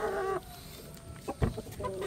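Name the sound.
live chicken clucking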